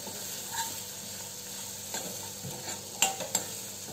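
A finely chopped onion frying in a pan for tadka chana dal, a soft steady sizzle with occasional spoon scrapes and a couple of sharper clinks near the end.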